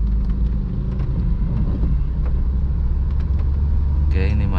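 A manual car's engine hums and rumbles steadily as the clutch is let out and gas is added in slow stop-and-go traffic at a red light, a low continuous drone with a brief rise near the end.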